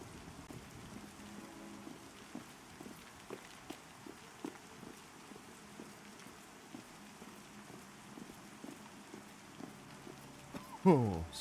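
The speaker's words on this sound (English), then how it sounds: "Wish it wasn't raining." Faint, steady rain falls in the game Pantheon: Rise of the Fallen, with soft, irregular clopping steps over it and a short voice right at the end.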